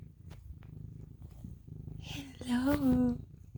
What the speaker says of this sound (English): I think it's Cherry Blossom that has a purr almost louder than her mom